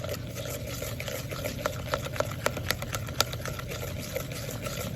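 A spoon stirs glue with a sprinkle of baking soda into slime, producing soft, wet, intermittent scraping clicks over a steady low background hum, close and quiet.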